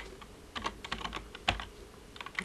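Someone types on a computer keyboard to erase text, a quick irregular run of key clicks and taps, close and moderately loud, with no talking.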